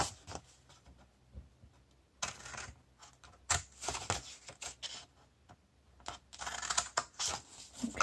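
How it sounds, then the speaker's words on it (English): Scissors snip and cut through scored paper card for a tented gift box, with a run of close, crisp, irregular clicks and slicing bursts separated by short pauses; no talking. "You're going to snip that out, and then on the bottom you're just going to cut along the one score line up to the other score line."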